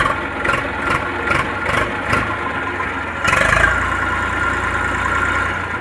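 A steady Eicher 380 tractor engine idles close by, with a low rumble and a brief surge partway through, no voices.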